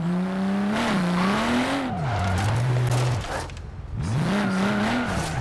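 BMW M4 in a driving video game, engine revving up and down as the car is thrown into a handbrake drift, with tire squeal and a brief dip before the engine roars again.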